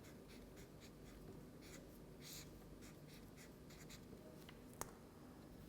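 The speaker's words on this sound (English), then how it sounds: "So, I am going to write" Chalk or a marker writes an expression on a board during a lecture, a steady series of faint strokes and taps over a quiet room, ending with one sharp click.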